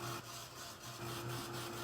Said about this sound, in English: This dryer is called a Heat It Tool by Ranger.